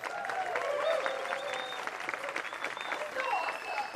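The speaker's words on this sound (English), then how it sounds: "Let's give them another big round of applause" Steady applause from an awards ceremony crowd, continuous clapping throughout with a few voices and whoops mixed in.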